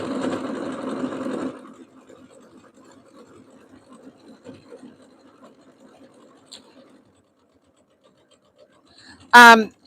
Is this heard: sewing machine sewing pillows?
yes